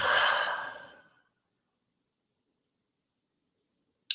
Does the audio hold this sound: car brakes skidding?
no